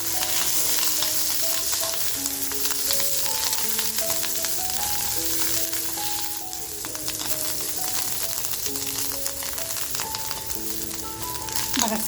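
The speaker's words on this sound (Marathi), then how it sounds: "थोडीशी कोथंबीर बघा आत्ता मी फ्राय करते" Vajri masala frying with coriander in a pan, a continuous close sizzle with soft stirring scrapes layered over it, steady and loud across the whole stretch, with no one talking.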